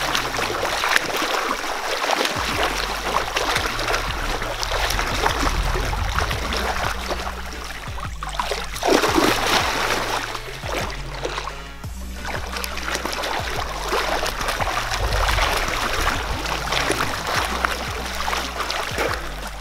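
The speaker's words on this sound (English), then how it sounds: "So now I'm gonna do breaststroke." A swimmer does breaststroke laps in a pool. Rhythmic splashing and sloshing water repeat with each stroke over a low underwater rumble, heard close and continuous with no voices.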